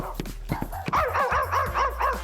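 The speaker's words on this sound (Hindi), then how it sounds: "मैं क्या कर रही हूँ? मैं भौंक क्यों रही हूँ?" A cartoonish dog barks and yips in a quick run of short, bouncy calls, loud and close over a faint low hum; a character in the game Poppy Playtime Chapter 3.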